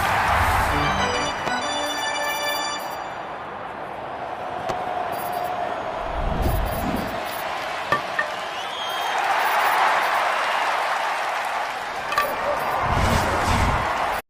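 A baseball crowd at a Yankees–Cubs game makes a broad, rising stadium roar and applause that swells and fades in waves across the clip, with a faint voice at times.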